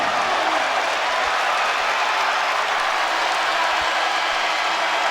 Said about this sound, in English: The crowd responding to Robert Morris.